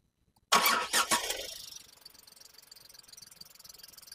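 Tata Punch Pure CNG compact car with a manual five-speed gearbox, engine cranking over in a sharp burst of starter noise, then settling into a quiet, steady idle hum.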